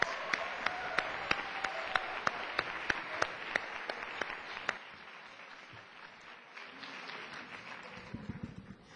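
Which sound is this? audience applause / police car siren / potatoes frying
audience applause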